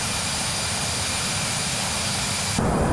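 Airbus A320 jet engines drone in FSX flight simulation. The loud, steady roar holds without a break, and its tone shifts abruptly near the end.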